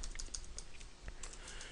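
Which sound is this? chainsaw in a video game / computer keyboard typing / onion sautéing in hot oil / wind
computer keyboard typing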